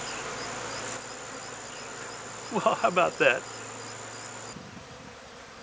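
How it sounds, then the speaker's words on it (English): Honeybees buzz close to the microphone in a steady low drone, with someone speaking briefly over it. "Yeah, he's buzzing in my ear."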